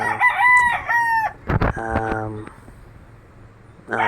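A white Kelso cross rooster gives a clear, nearby crow, followed by short clucking and fowl sounds, with a voice speaking briefly near the end.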